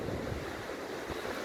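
Strong, warm storm wind blows in from the sea in Antalya during a rainy winter storm, a continuous faint broadband rush of gusts and surf with no one speaking.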